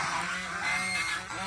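Large, good-breed domestic geese sitting on eggs give close, repeated nasal honks in a quick overlapping burst, fairly faint overall.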